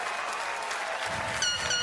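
A big crowd at a National Baseball Hall of Fame induction for David Ortiz keeps up steady applause and cheering, with a few higher whistles or shouts rising near the end.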